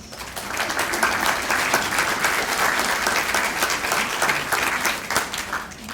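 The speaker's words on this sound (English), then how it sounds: "let's give the panelists a round of applause" Audience at a conference panel session applauding the panelists, steady dense clapping from a room full of people for several seconds, no talking over it.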